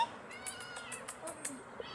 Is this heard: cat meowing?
yes